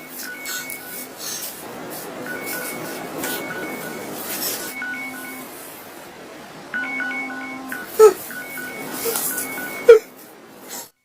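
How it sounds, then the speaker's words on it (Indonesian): A phone rings in short repeated electronic bursts over a busy background hum, with a couple of sharp knocks near the end. "Lalu tiba-tiba ia mendengar suara telepon."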